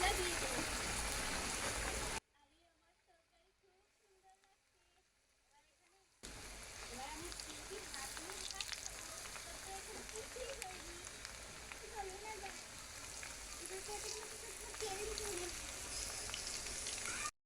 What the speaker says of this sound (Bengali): তেলটা গরম হয়ে গেছে, এখন আমি এক এক করে সব দিয়ে দেব।